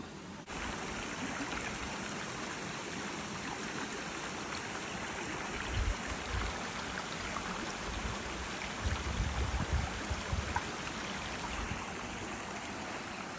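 Steady rushing of creek water flowing nearby at McCormick's Creek State Park, Indiana, a continuous broad hiss with occasional low thumps underneath.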